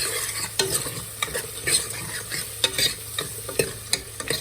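Chopped onions frying over medium flame for Hyderabad-style mutton dalcha, a close sizzle punctuated by a regular series of sharp spoon-against-pan stirring clacks, with no talking.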